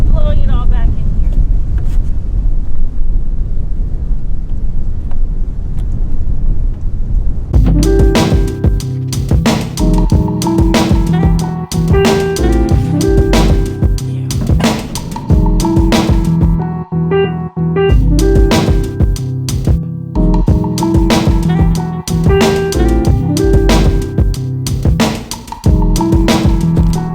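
Strong wind blows across an open spot in Nebraska, buffeting the microphone with a rough, roaring rush that is loudest at the start before people begin talking over it.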